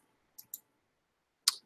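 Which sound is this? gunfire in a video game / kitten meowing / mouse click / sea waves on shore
mouse click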